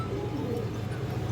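Soft, low cooing from a pair of Rajshahi Giribaz pigeons, a continuous murmuring coo close by with no other voices over it.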